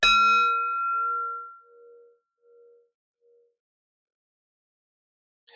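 A metal singing bowl is struck once, its bright attack fading into a steady, pulsing hum that slowly dies away into silence.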